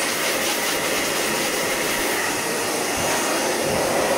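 A heated hair brush used on a beard blows air in a constant loud whoosh, close up and steady from start to finish with no other sounds.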